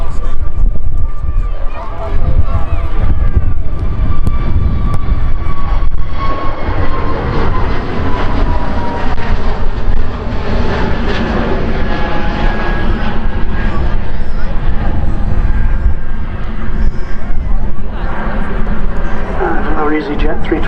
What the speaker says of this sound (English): Easyjet 320 Neo, this time off down to Hurghada.